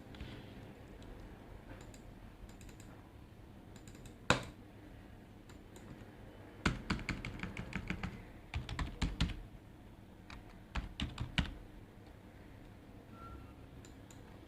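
Fingers tap out a user ID on a computer keyboard in irregular bursts of close, crisp key clicks, with pauses between groups and no voices.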